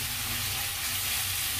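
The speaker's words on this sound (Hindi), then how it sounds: "थोड़ा भून लेंगे हम इसे मसाले को, जैसे हम मसाले देने में अच्छे से भून जाए।" Spice paste fries for palak paneer, giving a dense continuous sizzle that stays steady and close for a short moment, with no stirring or talk.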